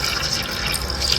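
Water trickles steadily into a tarantula's water dish, a continuous close-up splashing and pouring with no talking.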